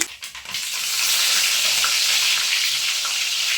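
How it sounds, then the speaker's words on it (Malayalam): Curry leaves crackle and sizzle in hot oil with popped mustard seeds, a loud, dense, steady frying hiss close by that swells after a brief softer start and holds for several seconds, with no voices. "കടുക് പൊട്ടിക്കഴിഞ്ഞു കറിവേപ്പില പൊരിഞ്ഞു"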